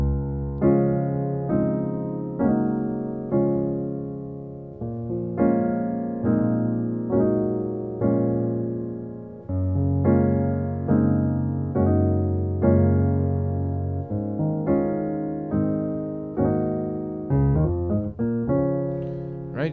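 A piano plays a gospel intro cycling through a 1-6-4-5 chord progression with jazz voicings, rhythmic struck chords repeating steadily and decaying between hits, solo with no talk.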